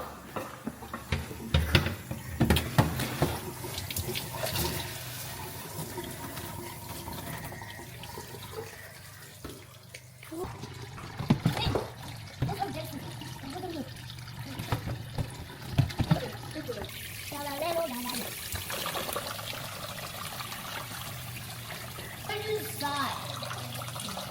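Kitchen tap water runs steadily into a sink while fish is washed for an oven-baked dinner, a continuous close splashing rush with people talking and exclaiming over it throughout.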